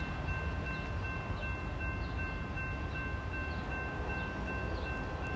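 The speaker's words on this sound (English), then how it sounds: "There's the SD78 honking." An SD78 locomotive horn sounds in long, steady tones over a low rail rumble at a HighGrove trackside. It blows continuously, moderately distant and fairly quiet, with no talking.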